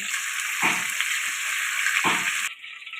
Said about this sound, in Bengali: একই রকমভাবে সব কটা ভেজে নিয়ে ফিরে আসছি